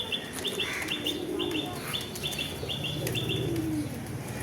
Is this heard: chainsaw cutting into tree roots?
no